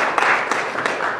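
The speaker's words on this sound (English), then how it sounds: "Round of applause, please." An audience at a church gathering applauds, a dense burst of clapping that swells and stays steady for a moment, close and fairly loud.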